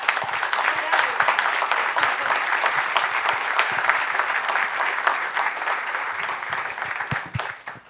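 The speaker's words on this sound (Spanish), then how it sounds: "Un fuerte aplauso para María Polito." An audience at a knowledge and technology event bursts into loud, sustained applause, dense crisp clapping from many hands that carries on steadily before tapering off near the end, with a few voices mixed in.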